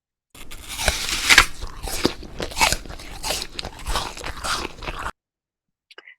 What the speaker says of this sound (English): And this is a person chewing apple sounds.